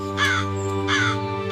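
A crow caws a warning in two harsh, drawn-out bursts about a second apart, set over a steady layer of sustained background tones.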